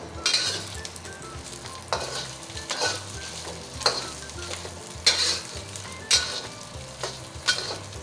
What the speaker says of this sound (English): I'm just going to stir fry the sausage for a minute or 2 until it's brown.